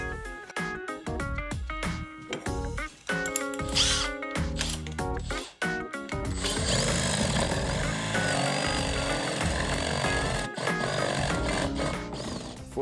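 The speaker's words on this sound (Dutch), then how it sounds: "Voor het boren van het gat is het belangrijk dat je dus, zoals je ziet, van twee kanten boort." A drill bores a hole through a small wooden plank for a great tit nest box, with bursts of whirring and grinding, short stops, then a long sustained drilling run; no voice is heard.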